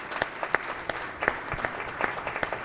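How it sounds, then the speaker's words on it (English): Applause fills the Senate chamber as legislators stand to honor municipal leaders: steady, fairly soft clapping from a crowd, with a few sharper individual claps standing out. "So I would ask that we give these faithful servants a round of applause"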